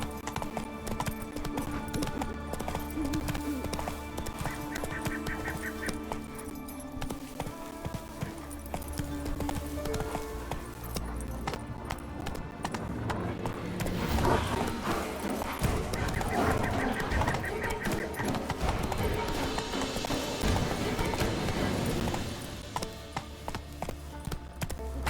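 In the video game The Witcher 3, a horse gallops with rhythmic clip-clop hoofbeats amid game music and ambience, with a brief neigh, building louder toward the middle and end.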